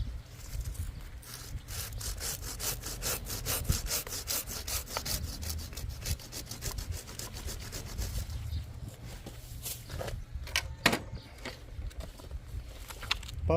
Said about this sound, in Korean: 톱으로 자르고